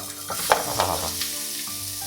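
Sliced onions frying in ghee in a pressure cooker give a steady, close sizzle, with a few sharper crackles and brief stirring scrapes on top.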